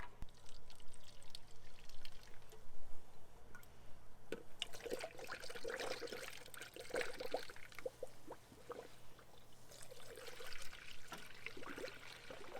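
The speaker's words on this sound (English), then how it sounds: "I'll add a whole gallon of just straight coolant." Coolant pours from a gallon jug into a Jeep XJ cooling system, a soft gurgling trickle with uneven glugs and splashes, close and quiet.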